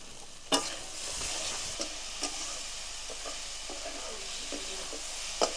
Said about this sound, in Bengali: এখন এই দুটো মিলিয়ে একটু নেড়ে নেব, একটু নাড়াচাড়া করব